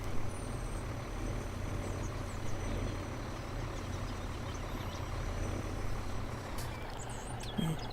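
A truck engine in Farming Simulator 17 drones at a low, steady idle, quiet and continuous, with faint chirps and a brief hiss near the end.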